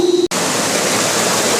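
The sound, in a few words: clarifier water flowing through wastewater treatment plant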